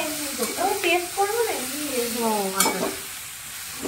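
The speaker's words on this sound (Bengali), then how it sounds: "এর মধ্যে পেঁয়াজ, টমেটো, রসুন, আদা আর কাঁচা লঙ্কা আর এই দিয়ে আবার একটু হালকা করে ভেজে নেওয়া হচ্ছে" Onion, tomato, garlic, ginger and green chili fry and sizzle steadily in a pan while being stirred, with a voice talking over the continuous hiss.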